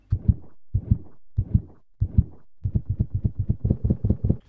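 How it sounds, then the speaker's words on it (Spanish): Heartbeat-like sound effect tied to Octane's ability in the Apex Legends game: a series of low, muffled double thumps, widely spaced at first and then speeding up into a faster run of beats, with no talk. "la habilidad de Octane sonaría tal que así"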